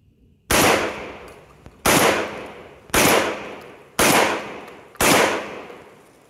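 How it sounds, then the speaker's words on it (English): Five loud shotgun blasts from an LKCI Model S12 12 gauge semi-auto shotgun fired at a can outdoors, evenly spaced about a second apart, each with a sharp crack and a decaying echo tail. "I'm gonna shoot at that can"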